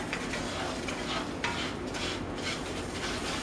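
Rice and vermicelli browning in a pan, a constant frying sizzle with repeated scraping and stirring strokes close by, no voices.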